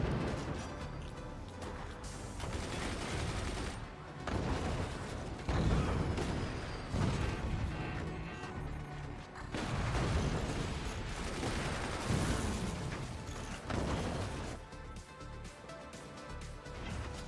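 Weapons fire in the artillery strategy game Forts: a dense, loud barrage of booming shots and blasts that rolls on almost without pause, with brief dips in intensity.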